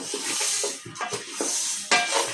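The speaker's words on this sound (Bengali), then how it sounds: "আমু ডাল ভেজে নিচ্ছে আগে" Lentils (dal) fry in a pan with a close, steady sizzle broken by quick scraping stirs and a sharper clink of a utensil against the pan.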